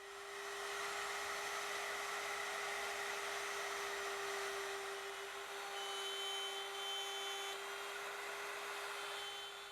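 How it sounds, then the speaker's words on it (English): A mortising machine cuts mortises into cherry wood stiles for a freestanding mirror. It gives a steady, loud motor whine with a sustained tone and a rough cutting texture that holds throughout, alone and unbroken. "we cut matching mortises in the bottom of our stiles"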